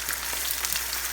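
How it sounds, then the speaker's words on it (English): Steady, close crackling sizzle of ackee and saltfish stir-frying in a pan, continuous and even with faint scattered pops. "I've been stir frying this for the last 2 minutes."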